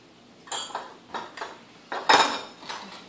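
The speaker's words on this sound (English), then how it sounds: "I like using a whisk because it's fast" A wire whisk stirs baking powder and baking soda into flour in a bowl, making a series of light metallic clinks and taps against the bowl in irregular bursts, close by and without talking.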